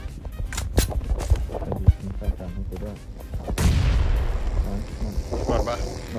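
DP-28 machine gun in the PUBG Mobile video game firing sharp, punchy shots in uneven bursts, with heavier booming fire toward the end and a voice talking underneath.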